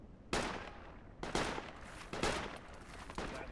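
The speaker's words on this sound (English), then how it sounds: "Taking fire from the northeast somewhere," Rapid bursts of rifle fire crack out in Project Reality's infantry combat on the Saaremaa map, with four sharp volleys in quick succession, loud and close, and no talk.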